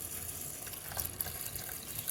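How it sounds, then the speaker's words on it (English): Water pours steadily into the pot of a GreenPan rice cooker, a soft continuous splashing and trickle heard close up with no talk. "And then you just want to fill it up with water to this line for the low carb."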